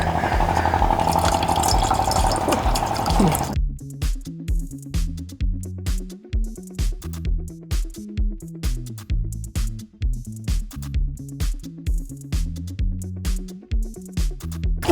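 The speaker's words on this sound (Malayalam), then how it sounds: "നനച്ച് പിഴിഞ്ഞെടുത്ത് വെക്കാൻ വേണ്ടിയുള്ള ആവശ്യമായിട്ടുള്ള വെള്ളം നമ്മൾ ഒഴിക്കുന്നു." Water is poured over bread slices to soak them for a Kerala-style egg cutlet, a steady splashing pour for the first few seconds before rhythmic music takes over.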